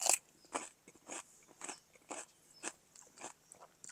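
Crisp, close crunching as fresh cucumber is bitten and chewed, about eight sharp crunches in a steady rhythm over quiet outdoor background.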